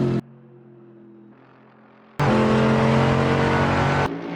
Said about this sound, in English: the car thundering ahead.